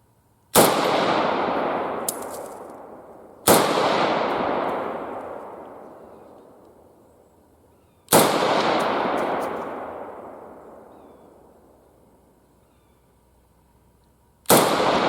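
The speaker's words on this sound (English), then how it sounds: "we're going to load up another 5 rounds and shoot it at 100 again" Swedish AG42B Ljungman semi-automatic rifle fired outdoors at a 100-yard target, four sharp, loud reports spaced several seconds apart, each trailing off in a long rolling echo.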